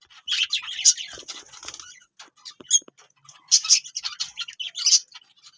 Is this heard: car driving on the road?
no